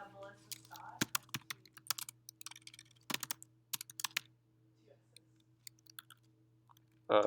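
Fast typing on a computer keyboard in a class setting, a quick irregular run of sharp key clicks with brief pauses, fairly close and fading toward the end, over a low steady hum.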